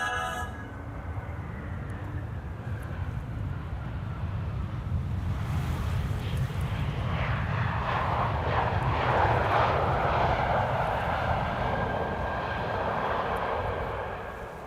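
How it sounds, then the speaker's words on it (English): An Air Arabia Morocco airliner arriving at Amsterdam Schiphol Airport, its jet engine roar building into a broad, steady rush that swells in the middle before easing slightly, heard alone without talk. "Here we have Air Arabia Morocco, which is arriving from Morocco,"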